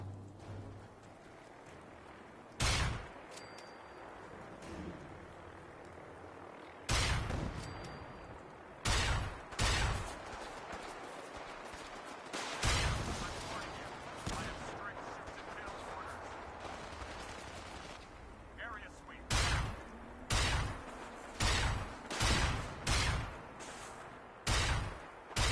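Gunfire in Fallout 4 comes as sharp separate shots spaced through the scene, then a faster run of cracks near the end, over a steady hiss of background noise.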